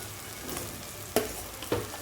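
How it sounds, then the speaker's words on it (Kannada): Cooked, cooled rice semolina is mixed with tempering in a frying pan, giving a quiet sizzle broken by two sharp spatula knocks against the pan, near and without talk. "ಇದನ್ನು ಬಾಣಲಿಗೆ ಹಾಕಿ ಒಗ್ಗರಣೆ ಜೊತೆ ಚೆನ್ನಾಗಿ ಮಿಕ್ಸ್ ಮಾಡ್ಕೊಳ್ಳಿ"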